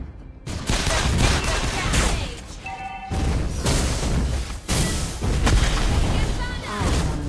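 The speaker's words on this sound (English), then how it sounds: "Grenade!" Video game combat with a grenade explosion: loud booming blasts and rapid gunfire fill the scene, with a brief lull before a heavy burst returns and continues in waves.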